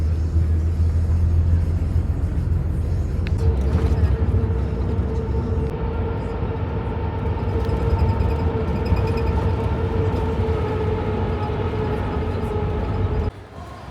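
Loud, steady low rumble and rattle from inside a bus riding over a rough, broken-up road under construction near Budva, Montenegro, with continuous engine drone and road vibration throughout and no talking.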